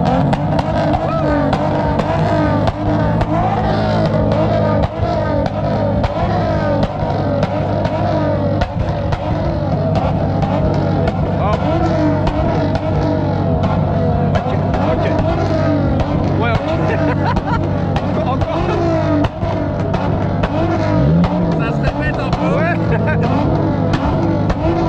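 A six-cylinder 2.5-litre 1JZ engine in a Toyota Supra drones loudly and continuously, with shifting revs and a faint background murmur of voices.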